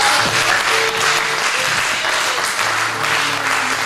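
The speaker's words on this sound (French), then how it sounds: "On acclame le roi." A church congregation breaks into sustained applause to acclaim the king during a sermon, a dense, loud clatter of many hands that rolls on steadily without pause.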